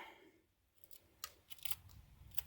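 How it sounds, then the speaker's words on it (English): A small pair of scissors trims excess hook-and-loop material around the edge of an orbital palm sander pad, quiet crisp snips in an irregular series, alone and close. "Take a nice little pair of scissors. And then just go around the outside edge."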